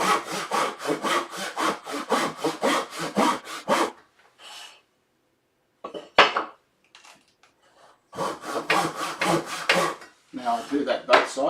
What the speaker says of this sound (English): what I'm going to do now is just use my crosscut saw